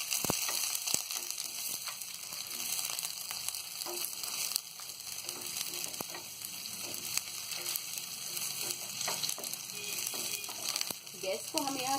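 Green chillies hit a pan of lightly browned onions and fry with a steady, close sizzle for the whole stretch, broken by a few sharp clicks of stirring, for a dry potato sabji.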